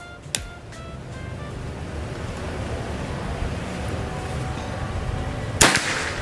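A sharp PCP air rifle shot cracks near the start, then a louder, closer shot snaps near the end over steady outdoor wind noise.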